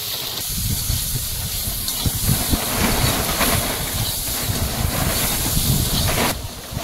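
A summer windstorm gusts loudly and continuously around an outdoor cooking spot, with a loose tarpaulin flapping and rustling in the wind; the broadband roar stays steady throughout with no talking.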